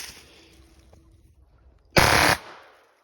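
Short burst of rapid gunfire from a pistol with a forced reset trigger, a loud dense roar of shots lasting under half a second, preceded by quiet handling noise.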